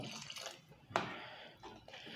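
Half a glass of water poured into a pot of simmering dal khichda makes a quiet splash and trickle that rises suddenly, then tapers into soft, faint liquid sounds.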